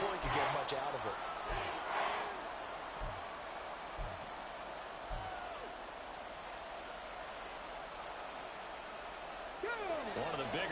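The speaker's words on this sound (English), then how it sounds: "The crowd getting into it as we come up on a big 3rd down" Stadium crowd at a football game roars in a steady, dense wash of cheering that fills the whole stretch, with a commentator talking over it.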